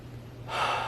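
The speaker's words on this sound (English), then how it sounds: "Keep breathing in deep with your nose." A single deep, slow inhale drawn in through the nose, close and breathy, rising from quiet into a broad airy rush over a low steady hum, during a guided meditation.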